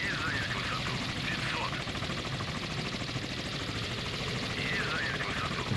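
A Soviet Ka helicopter flies low in the naval warfare game Sea Power, giving a continuous close rotor thrum with a rapid chopping texture that holds steady throughout.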